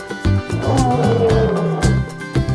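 A big cat roars loudly and close, in deep repeated rumbling bursts that fill the whole stretch.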